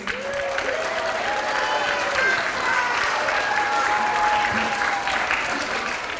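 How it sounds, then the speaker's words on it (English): An audience at a pre-K to third grade character education assembly applauds the winners with a dense, steady round of clapping that holds at full strength throughout, with voices faintly audible underneath. "Let's give them one more round of applause to our winners."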